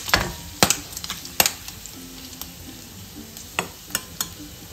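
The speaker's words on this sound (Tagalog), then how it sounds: "Piprito ko po sa sariling mantika para mas masarap po sa pork binagoongan" Pork sizzles in its own rendered fat with a soft steady crackle, broken by several sharp clanks and scrapes of a utensil stirring the pan, for pork binagoongan.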